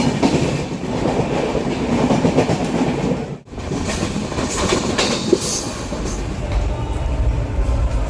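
Inside a passenger train travelling to Trivandrum in Kerala, a steady loud rumble of the carriage is heard with clickety-clack from the wheels on the rails, briefly dropping out midway before resuming.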